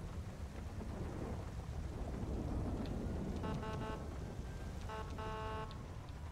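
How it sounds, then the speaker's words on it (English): Thunderstorm in the video game GTA5: steady heavy rain with a low rolling rumble of thunder, and brief synthetic beeping tones twice near the end. "A heck of a storm, huh?"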